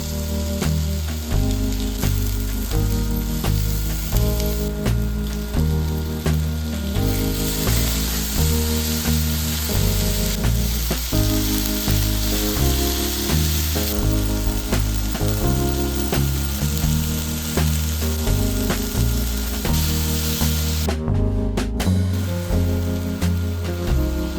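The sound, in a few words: vegetable curry (sabzi) frying in a pan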